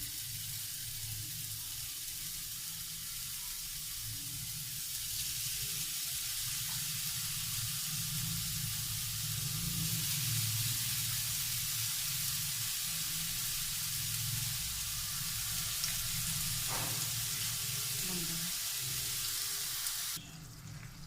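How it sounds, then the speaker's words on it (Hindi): Chapli kebabs frying in a little oil in a pan, a steady close hiss and sizzle running continuously with faint clinks, no talking. "बहुत कम ऑयल में हम इसको फ्राई करेंगे"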